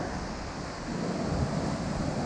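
Gusty wind blowing at an outdoor aquarium in Seattle, a steady broadband roar buffeting the microphone, with a surge of rumble midway and no talking.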